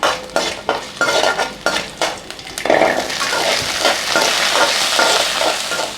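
Small onions are sautéed in a pan for black gram chutney. Sharp spoon scrapes and clinks against the pan come first, then a loud, steady close sizzle fills the rest, with no talking.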